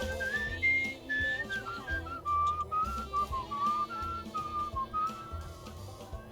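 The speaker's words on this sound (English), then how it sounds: "Let's see if I can whistle." A person whistles a tune alone, a clear wavering melody moving through several short phrases against a faint low background hum.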